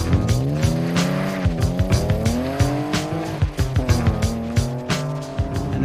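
A modified car fitted with Bilstein coilovers, an air filter, a short shift kit and a Scorpion exhaust drives with a steady loud engine drone, rising and falling with the revs, and repeated sharp bursts throughout.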